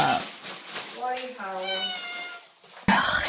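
A cat lets out a drawn-out, wavering howl, rising in pitch and clearly near, after a short burst of talking; a person's voice cuts in again at the end.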